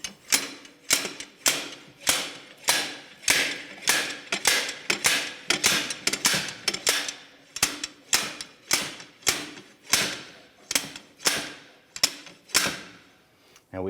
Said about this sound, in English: Using our slide hammer with our claw here, we're going to put it in behind the axle, but in front of the flange, and give this a few taps